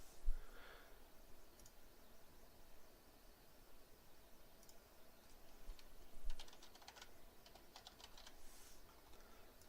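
Typing on a computer keyboard while building a website footer, with quick irregular clicks in short bursts, close and fairly quiet over a steady background hiss.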